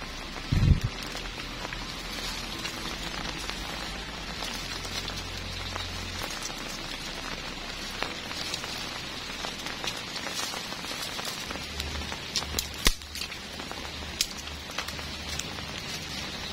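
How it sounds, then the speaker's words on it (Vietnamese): Heavy rain pours down in a forest, a dense, steady hiss lasting throughout, broken by a few sharp cracks and thuds, with no one speaking. "Rồi mưa lớn luôn quý vị ơi"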